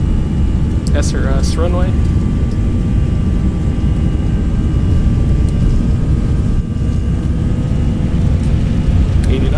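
Airbus A321 jet engines spooling to takeoff thrust on a Boston runway in a flight simulator, a loud, steady roar with a constant whine throughout, while a pilot's voice briefly calls out over it.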